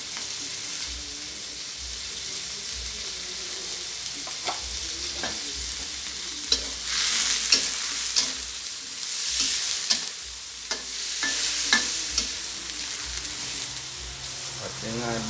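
Onion flowers and pork stir-fry in a hot pan, with steady sizzling and frying under repeated scraping and stirring strokes of a utensil, close and moderately loud.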